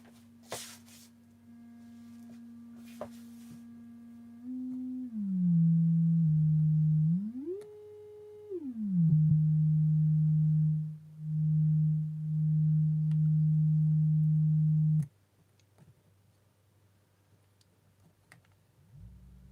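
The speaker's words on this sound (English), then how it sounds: "So let's try the sine wave." A pure electronic sine-wave tone from a cheap XR2206 oscillator kit holds steady, then glides down, swoops up and back, and drops out in bursts before cutting off, with faint clicks around it.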